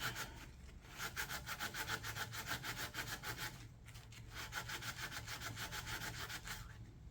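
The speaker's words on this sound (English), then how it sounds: "I shoved a green Scotch-Brite pad in there. Just to kind of scrub it up a little bit." Green Scotch-Brite pad scrubbing a part on a John Deere LX178 riding mower, a steady back-and-forth rasping in two long bursts with a brief pause between, close and fairly loud.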